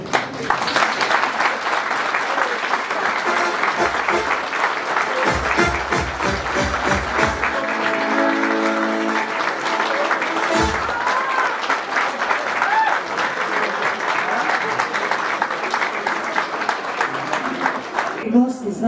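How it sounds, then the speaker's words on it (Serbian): Wedding guests in a restaurant hall applaud to welcome the groom's parents, a steady, dense clapping that carries through the whole stretch, with voices and music underneath. "ja ću vas sad zamoliti da jednim aplauzom dočekamo roditelje"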